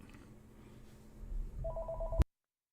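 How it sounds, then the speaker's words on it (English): A telephone rings with steady electronic tones that start faintly and grow louder before cutting off abruptly, heard alone with no talking. "Give me 1 second while that phone stops ringing so you don't hear it."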